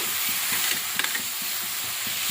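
Chili powder, cumin and ginger paste frying in a pan for a Bengali fish curry, with a steady hiss of sizzling oil and a rhythmic series of soft spatula scrapes as the spices are stirred.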